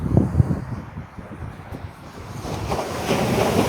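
Sea waves washing onto the beach at Poovar island, a continuous surf roar that swells toward the end, mixed with gusty wind buffeting the microphone.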